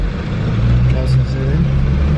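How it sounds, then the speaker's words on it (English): Loud, steady car engine drone and road rumble from inside a moving car, a constant low roar filling the whole stretch with a faint voice barely audible beneath it. "the sound of the car is so loud"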